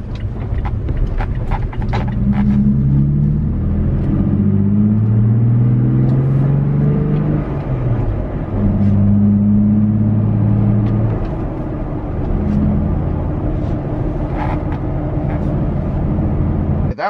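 A Toyota Tacoma pickup cruising along a 30 mph road gives a steady, continuous low engine and road drone heard from inside the cab, with no one talking.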